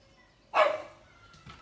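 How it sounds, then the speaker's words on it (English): A pug dog gives a single sharp bark close by, then falls quiet apart from a faint small sound afterward. "if he's barking, he might bark now"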